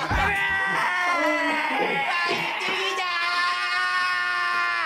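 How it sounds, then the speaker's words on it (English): High-pitched, excited screams from a played clip of a BTS member, drawn-out and tonal, loud and continuous with a few breaks in the middle. "I love these screams."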